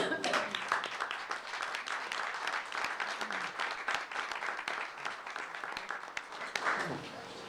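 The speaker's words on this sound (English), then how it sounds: "let's give them a round of applause." Warm applause from an audience at a board meeting honoring young people, a dense wash of hand clapping that holds steady for several seconds and then starts to fade, with a few voices murmuring underneath.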